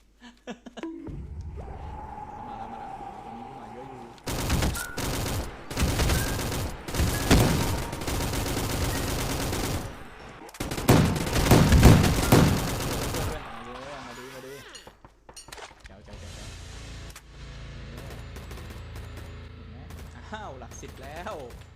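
Repeated gunfire from a Roblox shooting game, with dense bursts of rapid shots and heavier volleys coming in waves at close range, mixed with game effects and talking throughout.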